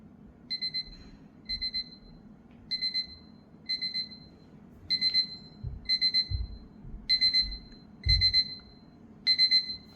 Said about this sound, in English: Okay, there's the alarm. You can see it progressively gets louder.